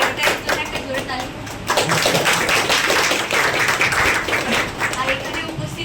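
An audience at a Rotary gathering in Medinipur honouring a swimmer's world-record Palk Strait crossing claps in a dense, sustained burst that swells louder after a brief dip and stays steady and full.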